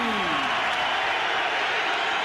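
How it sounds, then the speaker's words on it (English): Steady broadband applause and crowd noise fill an arena at a professional heavyweight boxing match for Eric "Butterbean" Esch, sustained and fairly loud throughout, with a brief voice rising near the start. "Ladies and gentlemen, big round of applause for Butterbean."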